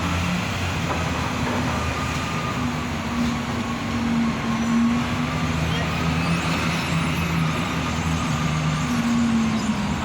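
Heavy container lift truck hoisting a shipping container onto a truck at a warehouse yard, heard as a steady, loud diesel engine drone with low rumbling tones and faint mechanical whine throughout.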